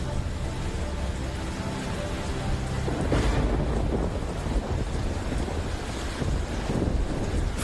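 Strong wind roars against the microphone alongside heavy rain, with a deep rumbling surge partway through.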